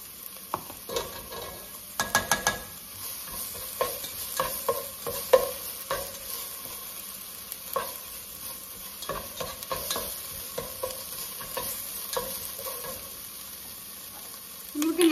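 Garlic paste frying in a pan with cooked ingredients, a low continuous sizzle punctuated by irregular scraping and clacks of a utensil stirring against the pan, close and fairly loud.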